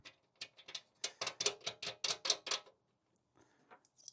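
Metal wrench turning a 10mm nut on a Jeep Gladiator rear aluminum half door, giving a quick run of close, crisp ratcheting clicks that stop and leave only a few faint ticks and taps.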